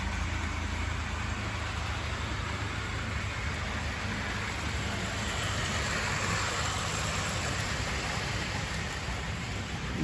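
Tri-ang Hornby model trains, including a blue Coronation locomotive, run along the track with a constant rushing, rattling rumble that stays steady and fairly close for the whole stretch.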